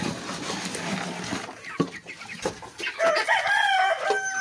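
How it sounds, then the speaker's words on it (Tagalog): Mangyan chickens cluck and crow at feeding time, giving a busy mix of close clucks and calls from several birds with a rooster crowing partway through. "Mangyan chicken."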